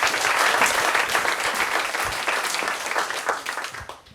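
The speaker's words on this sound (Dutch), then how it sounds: "En hou dat vast, dat applaus dames en heren" Steady, full applause from a sizable audience at a primary school musical, loud and continuous, gradually easing slightly toward the end.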